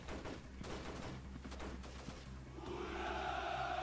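Machine gun squad opening fire in a guerrilla warfare video game, a dense, continuous rattle of gunfire with overlapping bursts, rising into a louder, brighter crackle toward the end, no talking.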